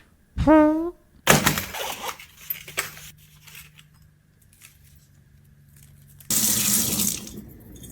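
A tap's water stream splashes into a sink in bursts, with a sharp tonal squeak at the start and a steady loud rush returning near the end.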